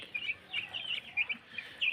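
Several tiger chickens on a farm give short, high clucks and chirps in quick irregular bursts, close by and moderately loud against a quiet background.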